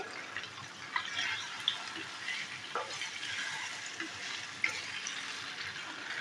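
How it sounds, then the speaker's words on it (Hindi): Soft, steady sizzling of ginger-garlic paste frying in a pan, with occasional light clinks and stirring sounds. "उसमें शामिल करूंगी जी अदरक और लहसुन का पेस्ट, और इसको थोड़ा सा भूनेंगे।"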